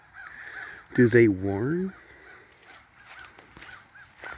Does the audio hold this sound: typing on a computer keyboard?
no